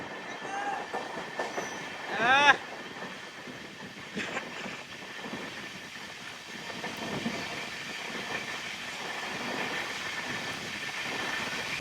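Seshadri Express with a new LHB rake rolling along the line between Kakinada and Bengaluru, a steady rumble with wheel squeal and clanks near the start, running continuously without speech.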